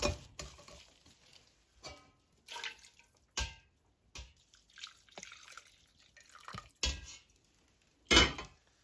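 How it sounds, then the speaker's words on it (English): Fish for Jamaican fish tea rubbed through a strainer, giving intermittent wet scraping and clinking strokes with drips and quiet gaps between. "So keep on rubbing it through the strainer."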